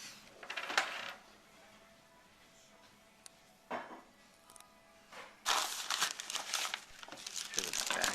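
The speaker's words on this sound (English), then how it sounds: "Here's a bag of this ruby quartz." A bag of ruby quartz crystals handled up close, with crinkling plastic and stones clinking and shifting in bursts, the loudest rustling near the start and again near the end.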